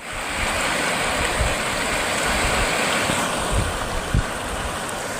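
Flood water rushes loud and steady through overflowing streams in the Warangal district during heavy rains. It forms one continuous roar with no voices.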